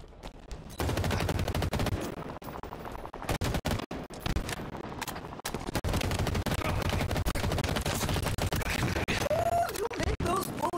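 Dense, continuous gunfire in the video game Halo Infinite, with rapid overlapping shots and impacts filling nearly the whole stretch, loud and close, dropping out briefly in a few short gaps.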